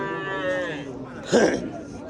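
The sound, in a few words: cattle mooing at a livestock market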